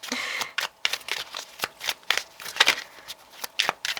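Tarot cards shuffled by hand for a reading, a quick irregular series of crisp riffling flicks and soft slaps, close and fairly quiet, with no talking.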